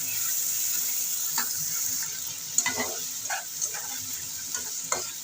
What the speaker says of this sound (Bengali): ভালো করে এবার কষিয়ে নেবো আলু আর মশলাটা একসঙ্গে